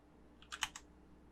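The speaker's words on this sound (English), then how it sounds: "I'll start typing in initialize" A few quick keystrokes on a computer keyboard in a quiet room, a short cluster of four or five crisp clicks close by, with no talking.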